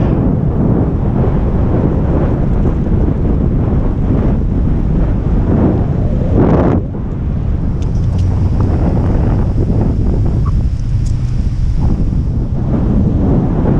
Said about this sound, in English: And it's incredibly windy.